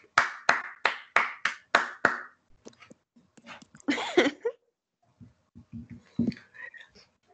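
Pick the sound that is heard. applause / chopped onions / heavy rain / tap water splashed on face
applause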